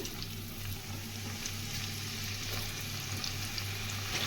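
Chopped onion sizzles steadily in a pan while being stirred, with a soft even crackle and faint scraping throughout and no voices.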